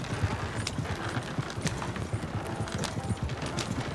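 Horse hooves clip-clop steadily in Red Dead Redemption 2, a close, regular trotting rhythm of several horses with faint background game ambience and no talk.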